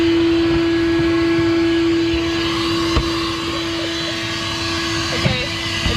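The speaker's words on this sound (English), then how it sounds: "helping me with the vacuuming" Vacuum cleaner running aboard a tiny sailboat, a loud steady motor whine with a sharp tonal hum, a few knocks and thumps as the hose moves about.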